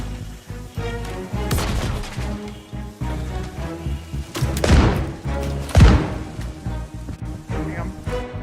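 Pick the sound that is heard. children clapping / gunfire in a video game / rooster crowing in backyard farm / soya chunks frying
gunfire in a video game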